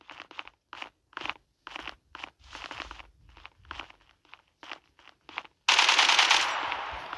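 Gunfire from a weapon in the online shooter Zula in a sabotage match, heard as short rapid bursts of automatic shots that end in a louder, sustained crackling blast, close and loud, with no talking.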